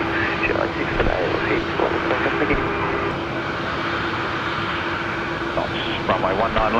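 A Qantas jet airliner taxis at Brisbane Airport at night, its engine a steady, loud drone with radio chatter and people talking over it throughout.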